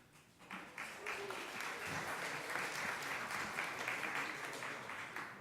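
An audience applauds at the Brooklyn Jewish Hall of Fame induction ceremony, steady dense clapping filling the hall from a distance and holding for several seconds.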